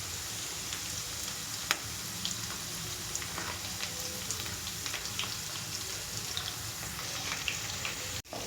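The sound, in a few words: onions and green chillies frying in a pan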